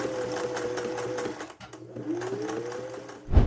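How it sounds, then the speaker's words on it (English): A sewing machine runs in close, steady bursts while stitching a fabric side piece onto two bottom pieces for an upcycled painted canvas project, pausing briefly before a final louder clunk. "I've now sewn the side piece, which is tucked in here, to my two bottom pieces."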